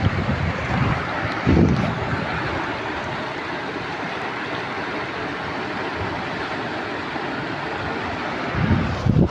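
A fast, flooding river rushes past with a loud, continuous roar of churning water, steady for the full stretch with a few brief surges and no talking.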